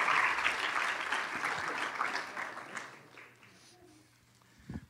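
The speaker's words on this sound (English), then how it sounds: "Another round of applause for these guys." Church congregation applauding, a dense wash of clapping that starts loud and gradually thins and fades away toward the end, leaving faint room noise and a last soft sound.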